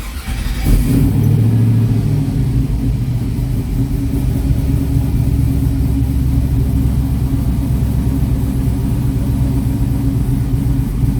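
A GMC Warhawk truck engine fires up with a brief cranking burst, then settles into a loud, deep, steady rumbling idle heard close by, with no talk over it.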